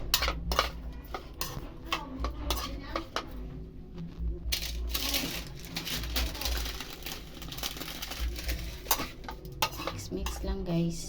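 Fish gets stirred and mixed in a metal pot with a utensil, producing irregular scraping and clinking close up, with a faint background hum and sizzle.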